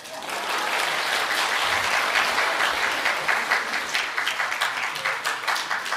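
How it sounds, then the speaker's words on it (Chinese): Theater crowd at a Deyunshe crosstalk show at Tianqiao Theater in 2020 gives sustained, dense applause that stays full and even before thinning into a few scattered claps near the end. "感谢朋友们的掌声"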